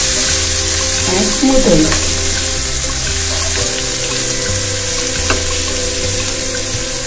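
Water hits onions frying in oil for Indori poha, giving a loud, dense, hissing sizzle with bubbling throughout while a voice speaks briefly.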